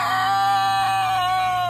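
An Ayam Cemani crossbreed rooster, bred from two purebred Ayam Cemani lines, crows loudly and close with drawn-out harmonic calls, breaking into clucks partway through.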